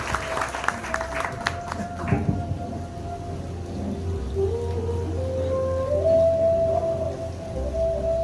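Applause breaks out at a hospital inauguration ceremony in Pipalva, a short scattered burst of claps that fades within about two seconds into a steady humming tone with a faint crowd murmur.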